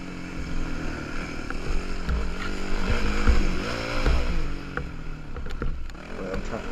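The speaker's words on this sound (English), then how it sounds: "I'm trying to rev the bike out as much as I can, get as much power as I can out of it." Motorcycle engine revved hard while riding a loop, a rough, throbbing motor drone with wind rush and uneven bumps, steady and moderately loud throughout.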